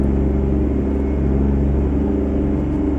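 Mack R truck with an 11-litre engine accelerating in top gear in American Truck Simulator, a loud, steady, deep engine drone with a pulsing low rumble throughout.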